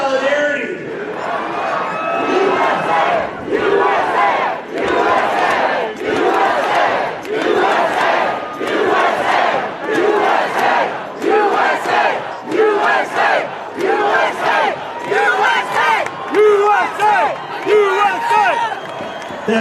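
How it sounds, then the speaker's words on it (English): A large protest march crowd in downtown Chicago on No Kings Day cheers and chants in loud rhythmic bursts, voices rising and falling in repeated waves throughout. "Look at this crowd. It screams solidarity."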